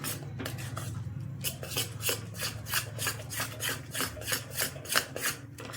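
Grated raw mango mixed with chilli powder, fennel, cinnamon and cloves for chhunda, stirred in a rhythmic series of scraping, rasping strokes, close and fairly quiet, with no talking.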